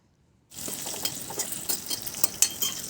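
Split green chillies fry in hot oil, a bright crackling sizzle that starts suddenly after a brief silence and carries on with irregular pops and stirring scrapes, close up.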